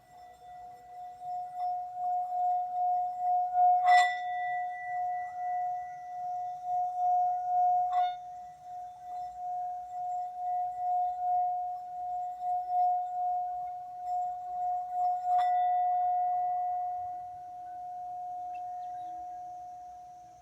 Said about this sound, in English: This is a Tibetan singing bowl.